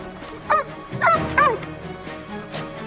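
A police sniffer dog searching around a horse trailer lets out several short, close yips and whimpering whines in quick succession over a quiet background.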